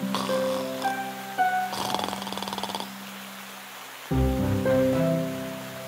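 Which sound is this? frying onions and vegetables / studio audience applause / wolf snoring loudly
wolf snoring loudly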